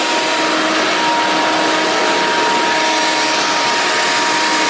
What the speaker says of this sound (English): grinding totally done, turbo vacuuming and wall wiping happening